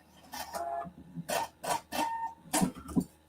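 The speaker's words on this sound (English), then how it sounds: "we're just going to sew all the way down" A sewing machine stitches a patchwork Christmas stocking in several short, close bursts of mechanical whirring with brief pauses between runs.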